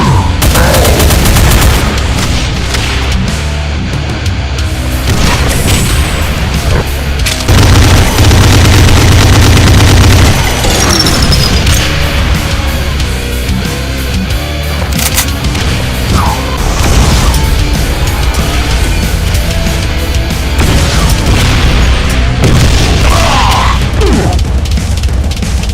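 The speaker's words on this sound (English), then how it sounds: "The volley of rockets it fires can emit a large explosive blast radius per rocket." Volleys of Cyberdemon rockets detonating in a modded Doom game, a dense, loud barrage of overlapping blasts and booms that keeps going with hardly a pause.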